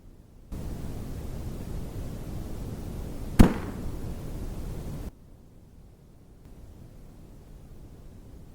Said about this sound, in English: So I waited for a shooting lane to come up and took a shot.